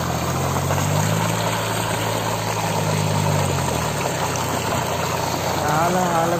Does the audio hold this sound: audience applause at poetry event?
no